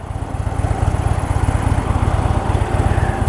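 A 2016 Harley-Davidson Fat Bob engine idles close by at about 1,000 rpm with a low, rapid, loping pulse that stays steady throughout, no talking over it.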